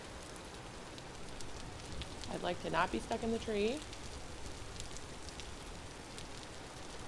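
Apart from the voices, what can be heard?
rain falling in video game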